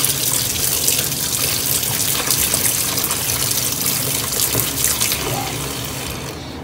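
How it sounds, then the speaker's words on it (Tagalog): Tap water pours steadily into a basin, a loud close gush that stays constant and then eases slightly at the end, with no speech over it. "And then, I add water"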